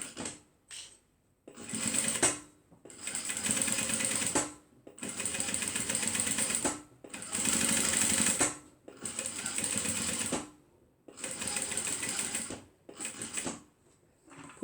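A sewing machine stitching a zipper handbag seam runs in loud, steady bursts of a few seconds each, with short pauses between runs as the stitching reverses back and forth.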